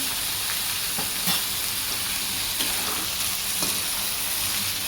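Padwal (snake gourd) bhaji sautéing in a pan gives a steady close sizzle and frying hiss, with occasional scraping stir strokes through the nearly five seconds.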